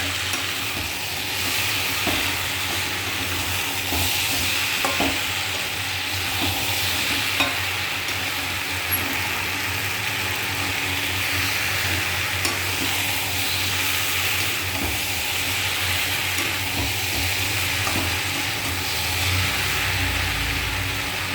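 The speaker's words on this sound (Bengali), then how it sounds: "এবার একটু নাড়াচাড়া দিয়ে দেবো।" Broken fish heads fry in a curry in a pan while being stirred, giving a continuous close sizzle with scraping stirs throughout and no talking.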